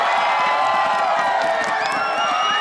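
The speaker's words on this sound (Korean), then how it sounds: "다시 한번 우리 김민성 선수에게 응원의 박수를 부탁드립니다." A large ballpark crowd of baseball fans cheers and applauds for a player, a loud, steady roar of mixed voices and clapping with high whoops and whistles that runs without a break.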